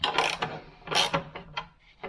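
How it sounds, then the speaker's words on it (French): A ratchet wrench snugs the screws on a base plate for a bamboo post, giving short close bursts of rapid clicking separated by brief pauses. "à l'aide de la clé à cliquer, on vient mettre quelques petits coups juste pour verrouiller les vis"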